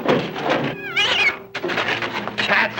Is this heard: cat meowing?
yes